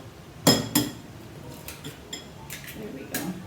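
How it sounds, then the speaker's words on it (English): Three eggs are stirred in a bowl that held butter, for zucchini carrot muffins, with a few light clinks of utensil against the bowl, quiet and close, set apart by short pauses over soft room noise. "And we want 3 eggs. And I'm just going to stir them up in my butter bowl."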